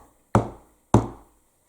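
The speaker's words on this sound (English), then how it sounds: "One is to knock the cards." Two sharp knocks on a tarot card deck, evenly spaced about half a second apart, close and crisp with short decays in otherwise quiet surroundings.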